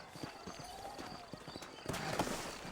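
Horse hooves clip-clop at a steady walking rhythm in the Red Dead Redemption video game, the sound moderately close and continuous, with a soft ambient bed and a slight rise in level near the end.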